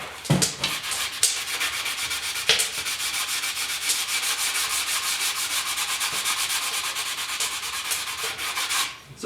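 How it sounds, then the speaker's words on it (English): 80 grit sandpaper scrubs back and forth across a plastic grill from a 1972 Ford truck, producing close, steady, hissing rubbing strokes with a few sharper scrapes and no talk. "just take a little bit of 80 grit first."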